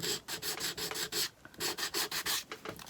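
Hand sanding of a wooden book, a steady series of rhythmic rasping strokes, about a dozen in quick succession with short gaps, close and fairly loud with no voices.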